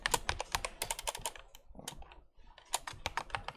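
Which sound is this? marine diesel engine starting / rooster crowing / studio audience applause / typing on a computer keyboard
typing on a computer keyboard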